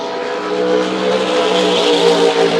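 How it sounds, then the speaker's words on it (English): Turbocharged six-cylinder Ford Barra race car engine revs hard during practice, a loud, steady, buzzing roar that holds for the whole stretch without a break. "As he winds up the turbocharged six-cylinder Ford product."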